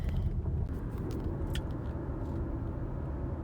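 Steady low road rumble and engine drone inside a 2024 Dodge Hornet R/T while driving, a continuous cabin hum with a few faint higher ticks and no talking.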